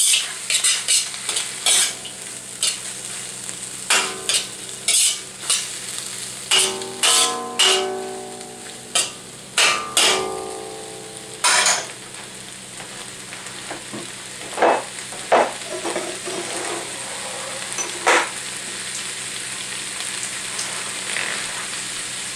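Tofu stir-fried in a pan with black fungus, a steady sizzle broken by repeated metallic scrapes and clanks of a utensil against the pan, close and clear, with no talking.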